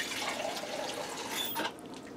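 Water runs briefly into a can, a close splashing pour lasting about two seconds that fades at the end.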